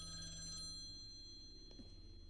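A telephone rings inside the horror game The Last Dead End, a faint, steady electronic trill with a low background hum and a brief soft click near the end.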